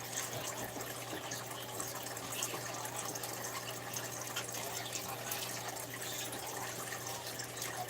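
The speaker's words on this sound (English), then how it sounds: "I have to trickle drip it in." Water trickles slowly and steadily into a tank, a continuous soft wash of liquid noise with a low constant hum beneath it and no voices.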